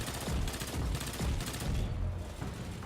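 Players shooting guns in a video game, a dense continuous rattle of rapid automatic fire mixed with rumbling low booms, steady and fairly loud with no talking.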